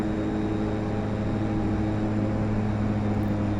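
Steady, continuous drone of the twin turboprop engines of a DHC-6-300 Twin Otter in a flight simulator, with power increased on descent toward Pointe-à-Pitre, Guadeloupe; loud, even tonal hum with no talk.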